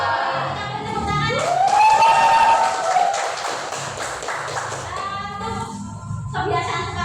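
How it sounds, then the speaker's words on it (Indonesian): Students in a religious education class clapping together, a burst of hand claps under a teacher's voice, moderately loud in a room, fading toward the end. "Kita beri tepuk tangan."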